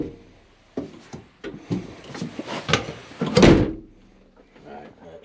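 A door is pushed shut indoors, heard as a burst of knocks and scraping thuds that peaks in a single solid closing bang, followed by quieter rustling.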